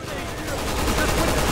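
Gunfire in the zombie action game Resident Evil 6, a dense burst of rapid shots filling the whole moment at a loud, steady level.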